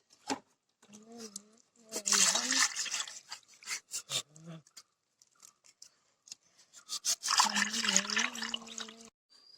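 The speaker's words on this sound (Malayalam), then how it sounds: "നമുക്ക് മീൻ നന്നായി കഴുകി വൃത്തിയാക്കാം" Fish being washed in water in a home kitchen gives intermittent splashes, trickles and drips, close by and mixed with stretches of talking.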